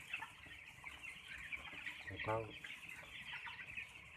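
Broiler chickens cluck on a farm, with scattered soft clucks and one louder, nearer burst of calls, under a faint background voice.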